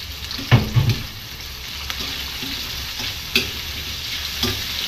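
Tomatoes frying and being stirred in a hot pan during home cooking, with a steady low sizzle and a few louder scraping stirs near the start, close and alone without talk.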